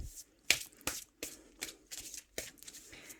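Oracle cards being shuffled by hand before a tarot reading, a close, quiet series of about eight crisp riffling bursts separated by short pauses.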